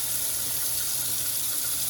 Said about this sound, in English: let me get this sink filled with water again